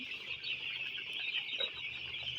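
Young chickens on a poultry farm cluck and peep in a steady, moderately faint chorus with no talking.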